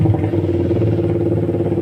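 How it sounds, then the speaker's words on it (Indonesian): A carbureted motorcycle engine fitted with a TDR Racing non-resistor spark plug runs steadily at idle, a close, loud, continuous low rumble with rapid regular firing pulses and no talk over it. "kita nyalakan motornya"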